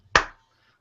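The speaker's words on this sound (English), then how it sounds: "Let's do another clap" A single sharp hand clap, close and alone, snapping hard and decaying within a fraction of a second in a quiet room, used as a sync marker during a podcast recording.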